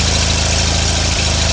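The 520H tractor engine runs after a carburetor cleaning, with a little choke applied: a brief, close, steady idle with a rhythmic low chugging throb.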